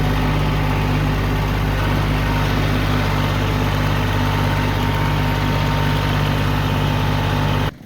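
A John Deere 750 tractor engine runs at a steady idle near the listener, a loud continuous low throb with a strong hum that holds for several seconds and then cuts off abruptly at the end.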